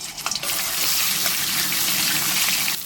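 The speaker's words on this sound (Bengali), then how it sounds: "সর্ষের তেল দিয়ে প্রথমে আমি কপিটা ভেজে নেব।" Cauliflower pieces frying in hot mustard oil in a kadai, giving a steady loud sizzle and crackle that holds through the whole stretch with no talk.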